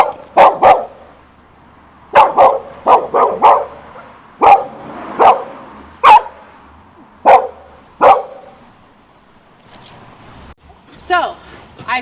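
A dog barks on a walk in sharp, close bursts, mostly pairs and clusters repeated over several seconds. A faint jingle and some quieter noise come near the end.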